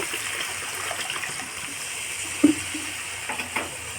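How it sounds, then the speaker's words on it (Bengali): Hot water poured into a pan of spice-coated fish, a steady soft rush and trickle with faint sizzling, moderately close, with a couple of light clinks near the end. "আজকে যে মাছগুলিকে মশলাটা দিয়ে একটু ভালো করে মাখিয়ে এখন গরম জল দিয়ে দিলাম"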